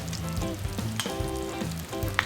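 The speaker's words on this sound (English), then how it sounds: "Honey will be a little bit sticky, so keep stirring them well." Sticky honey sauce sizzles and bubbles steadily in a hot pan, close and continuous, with scraping and clinking as a spoon or spatula stirs the thickening mixture.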